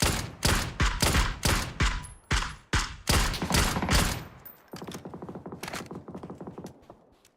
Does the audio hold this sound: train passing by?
no